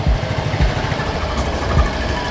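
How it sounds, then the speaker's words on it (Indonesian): A used Yamaha Mio M3 scooter engine idles with its exhaust covered, a close, steady low rumble with rhythmic pulsing throbs and broadband mechanical noise. "dengerin suara mesinnya"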